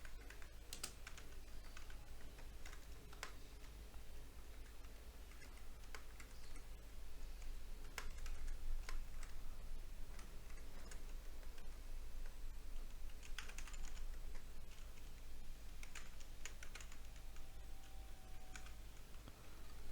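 Code is typed on a computer keyboard in quick, irregular bursts of close, soft key clicks over a low steady room hum, with no talking.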